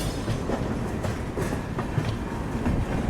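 Patna Ahmedabad Express rolling into an Indian railway station, a steady rumble of wheels with soft clickety-clack from the coaches, continuous and fairly close, no talking.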